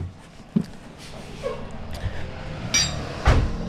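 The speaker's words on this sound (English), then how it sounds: "Probably a couple more hits and that thing's coming right off." A hammer knocks a stuck brake rotor off an Infiniti G35 coupe: a few scattered, irregular metallic hits, moderately loud and close, with quiet shop ambience between them.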